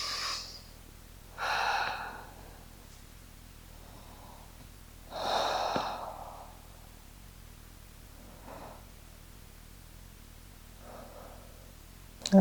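Slow, deliberate breaths during a yoga side bend in a hip-opening vinyasa flow, a few soft airy inhales and exhales spaced several seconds apart, close and quiet with no talking.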